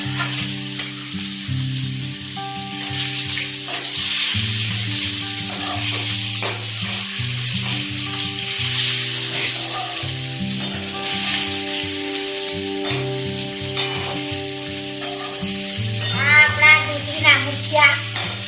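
Bottle gourd muthiya dumplings fry and sizzle in a pan with a loud, steady crackling hiss and occasional stirring, while music with a steady melody plays throughout and a voice briefly joins near the end.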